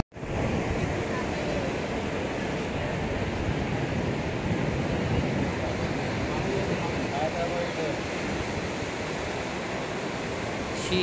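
Sea waves washing onto a beach as turtle hatchlings reach the water, a loud, continuous roar of surf with wind buffeting the microphone throughout.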